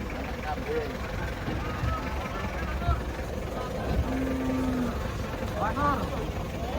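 A large cow just unloaded from a truck gives a long low moo amid outdoor crowd noise, with people talking throughout and a motor humming in the background.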